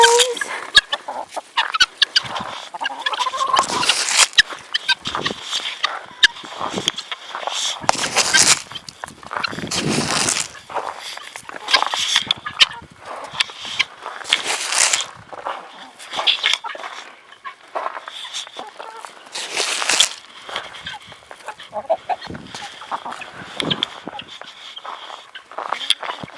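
Guinea fowl and chickens cluck and squawk excitedly while being offered seed, a busy flock calling near and far in overlapping bursts with a loud cackling peak, and no talk.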